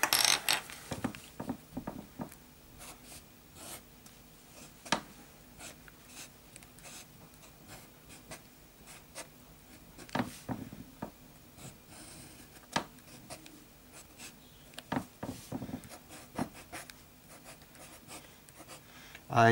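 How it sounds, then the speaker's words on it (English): A fountain pen writes on paper with Papier Plume Forget-Me-Not Blue ink, giving close, dry scratchy strokes and taps in an irregular rhythm, with small pauses between letters and no talking. "Let's do a little bit of fat writing."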